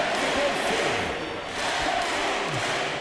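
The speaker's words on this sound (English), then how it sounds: "Listen to this crowd." Arena crowd in the NBA 2K25 basketball video game roars steadily through a free-throw moment, a dense continuous wash of cheering and noise with faint thuds, fairly loud throughout.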